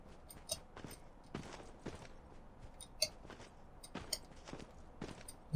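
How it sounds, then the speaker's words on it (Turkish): Soft footsteps from a Call of Duty match tread steadily at low volume, each step faint and close, in an otherwise quiet stretch of gameplay with no talking. "Benim ayak sesimmiş."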